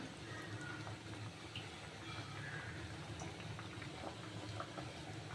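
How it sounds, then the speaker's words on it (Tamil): Steady bubbling of a pot of sambar on the boil, a constant low churning with soft pops, no voices. "நல்லா கொதிக்கிது பாருங்கள் நல்லா கொதிக்கட்டும்"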